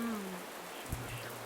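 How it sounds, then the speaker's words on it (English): Steady rain falls in the VRChat game world, a soft continuous patter with one brief thump midway, moderately quiet and heard alone without talk. "But I still hear the rain."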